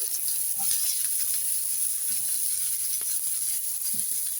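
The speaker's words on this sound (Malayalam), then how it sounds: "സവാള ഇടാം." Sliced onion goes into a hot oiled pan for soya chunks chilli and fries with a steady, soft sizzling hiss and faint scattered crackles, with no talking.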